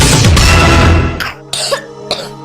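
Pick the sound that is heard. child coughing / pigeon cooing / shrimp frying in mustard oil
child coughing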